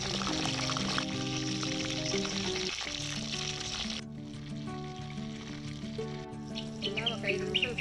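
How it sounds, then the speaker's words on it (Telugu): Brinjals deep frying in hot oil give a steady, close sizzle and bubbling that runs throughout, briefly thinning midway, with faint tonal background sound beneath. "ఆయిల్ వేడెక్కిన తర్వాత ఈ వంకాయల్ని డీప్ ఫ్రై చేసుకోవాలి."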